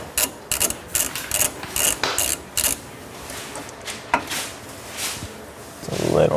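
A ratchet with a short socket works a slightly rusty bolt during a front sway bar install on a Mazda ND Miata, giving a few close bursts of rapid clicking with pauses between.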